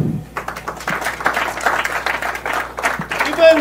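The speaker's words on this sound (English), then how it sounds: "give him a big hand" An audience at a scouting talk gives a speaker a hand, a burst of many hands clapping at close range that stays fairly busy and uneven throughout, with no voices rising above it.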